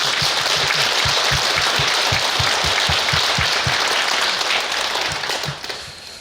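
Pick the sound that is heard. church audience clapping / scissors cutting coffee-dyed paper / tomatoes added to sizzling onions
church audience clapping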